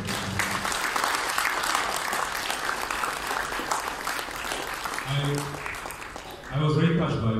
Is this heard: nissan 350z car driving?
no